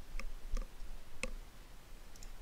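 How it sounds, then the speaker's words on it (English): Computer mouse clicking during character creation, four sharp, separate clicks at uneven intervals over a faint background hum, close and quiet, with no talk. "I'm just going to do some clicking, right?"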